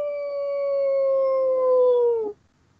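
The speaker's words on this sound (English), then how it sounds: "I hear a dog in the background somewhere" A dog howls in the distance: one long, sustained, wavering howl that holds steady for about two seconds, then bends downward and cuts off, leaving near silence.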